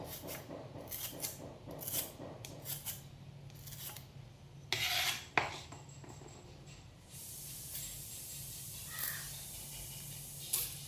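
A knife slicing through a trimmed banana stem, with short rasping strokes in quick bursts, some longer scraping cuts and a few brief sharp hisses, close and fairly quiet with pauses between.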